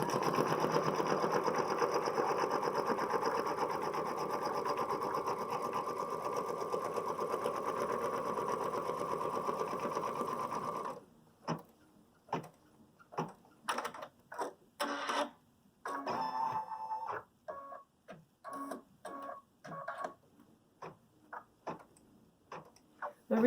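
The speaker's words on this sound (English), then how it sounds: "we're going to stitch out the placement lines for the applique" Embroidery machine stitching applique placement lines: a steady, fast mechanical whir for about ten seconds, then short, irregular bursts of stitching separated by pauses, heard alone and up close.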